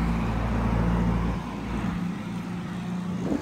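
Traffic rolling past on a road close by, a loud continuous low roar that eases slightly midway and then holds steady, with no speech over it.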